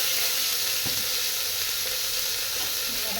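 Sliced onions drop into hot oil in a pan over cinnamon and cloves, giving a dense, even sizzle that carries on steadily, with one brief knock near the start.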